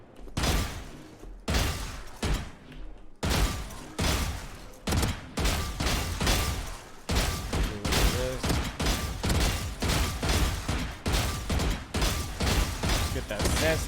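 Vandal rifle gunfire in a video game, loud rapid bursts repeating with short gaps and then a long sustained string of shots.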